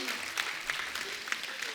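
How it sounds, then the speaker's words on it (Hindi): Quiet, brief studio audience applause on a comedy talk show, a soft wash of clapping with a few sharper claps poking through. "जोरदार ताली।"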